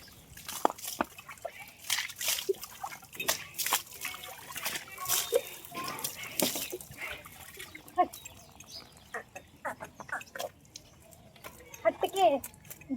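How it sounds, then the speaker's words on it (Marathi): Water is thrown and splashed onto a buffalo in repeated sloshing bursts, fairly faint, with the animal shifting nearby and quiet outdoor background. "तिला पाणी मारून घेते उन्हाचं म्हणजे तिला जरा गार वाटेल"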